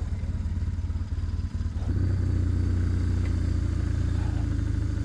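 A motorcycle on an off-road trail revs hard and accelerates, its engine a loud, close, throbbing drone that steadies into a sustained roar.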